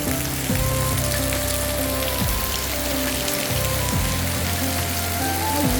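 Steady heavy rain drumming on a metal roof sheet at a village home, a dense close patter running without pause under faint background tones, no talk.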